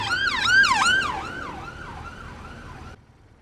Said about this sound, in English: That's what we need, sirens.